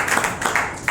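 Brief burst of audience clapping at a motivational sales talk, a few scattered claps rising and falling over under a second, fairly close with no voices.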